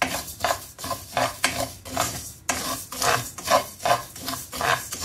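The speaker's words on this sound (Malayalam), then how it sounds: "ആദ്യം നമുക്ക് മല്ലി മൂപ്പിച്ചെടുക്കാം." Coriander seeds dry roasting in a pan for homemade sambar powder, stirred so they rasp and scrape across the metal in steady rhythmic strokes, close and fairly loud, with no voices.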